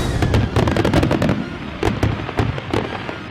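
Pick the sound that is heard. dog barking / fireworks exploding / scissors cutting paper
fireworks exploding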